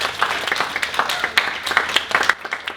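Scattered clapping from a small audience, uneven and moderately loud, with some voices mixed in.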